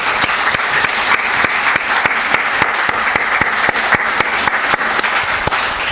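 An audience at an adoption conference gives adoptive families a round of applause, dense steady clapping throughout, loud and close with no talk.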